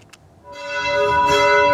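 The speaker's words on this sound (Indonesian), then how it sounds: "Lonceng dibunyikan bersamaan sekitar 4 menit seiring dengan pemakaman Paus Fransiskus" Jakarta Cathedral bells toll for Pope Francis's funeral, a ringing tone that swells in after a faint knock and sustains with rich, humming overtones.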